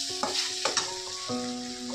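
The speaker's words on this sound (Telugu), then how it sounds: "ఇప్పుడు ఒక టమాటా వేసుకుందాం." A single tomato cooking down in a pan for a gongura dish, steady sizzling with a few stirring knocks and faint tonal hum in the background.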